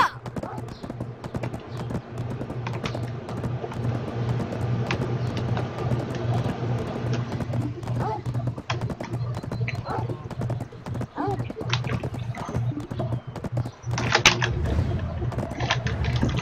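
Hooves clip-clop steadily as a horse gallops toward the player across open ground in the online role-playing game Black Desert Online, a constant rhythmic beat beneath a voice.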